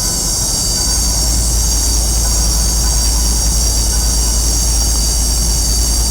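A steady, loud mechanical whir with a constant high-pitched whine runs unbroken throughout as a motorized camera mast raises upward, with no voices.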